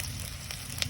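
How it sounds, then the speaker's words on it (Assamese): Pork frying in a kadai over an open fire gives off a steady, close sizzle with small pops, with no talking over it. "এই কেৰাহীত উঠি গৈছে আমাৰ মাংস, তলত জুই"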